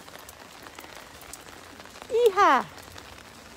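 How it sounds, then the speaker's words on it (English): Steady rain falls on a street in Paris near Rue Lepic in Montmartre, a faint even patter throughout, briefly interrupted by a loud shouted voice near the end. "It is raining."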